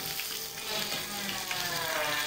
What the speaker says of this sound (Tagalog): pinirito ko siya sa sarili niyang mantika